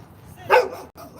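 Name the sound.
small dog barking at treats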